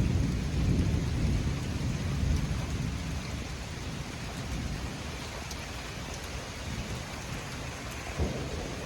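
Severe supercell thunderstorm over a city, with heavy rain pouring steadily on surfaces and deep rolling thunder rumbling loudly at the start, then fading under the constant downpour.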